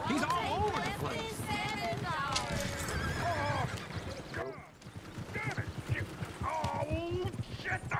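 Horses in Red Dead Redemption 2 whinny and neigh repeatedly over galloping hoofbeats, a loud, busy stretch of animal cries and clip-clop throughout.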